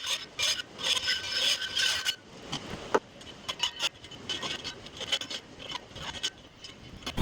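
Aluminum angle being cut at an angle for a 1970s vintage camper window repair, with close, uneven rasping and scraping strokes and a sharp clack near the middle.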